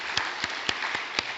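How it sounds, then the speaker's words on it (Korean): A small church congregation claps in sparse, separate beats, about five distinct claps spaced evenly and fairly quiet, after praise for the worship singing during a Sunday service. "박수 하시겠습니다."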